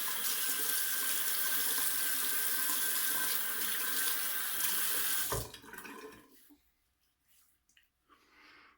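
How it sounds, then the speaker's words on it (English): A bathroom tap runs hard into a sink as someone rinses after shaving, a loud, steady gush close by for about five seconds, then it shuts off, leaving soft splashes and dripping. "Let me rinse off."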